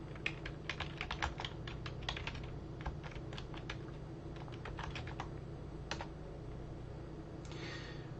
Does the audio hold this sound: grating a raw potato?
no